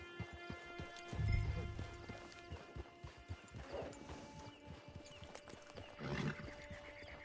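Horse hooves clip-clop in an irregular rhythm over ambient game music in Red Dead Redemption Online, with a heavier thud near the start and a brief whinny-like sound later.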